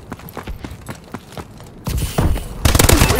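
Rapid bursts of automatic gunfire from Advanced Warfare multiplayer, a military shooter video game, growing louder and denser toward the end of the short stretch.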